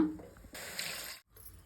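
Water pours into a pressure cooker holding kabuli chickpeas, a soft splashing fill that swells into a steadier rush, then stops briefly before a quieter trickle resumes.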